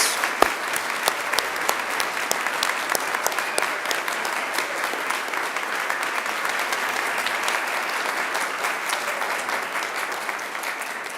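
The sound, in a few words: graduation audience applause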